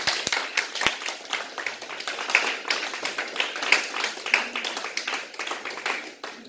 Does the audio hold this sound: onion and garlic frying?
no